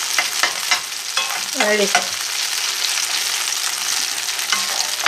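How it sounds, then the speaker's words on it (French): Red lentil vegetarian patties sizzle steadily in a frying pan, a close, continuous crackling hiss with a few brief pops, while a voice speaks one short word. "Et on va faire cuire tout simplement, une fois sur une face, une fois sur l'autre."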